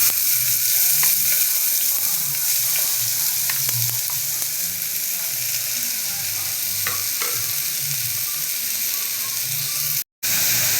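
Sliced small onions fry in hot oil in a pan for salna, a steady loud sizzle with scattered ticks and scraping stirs, one brief dropout near the end.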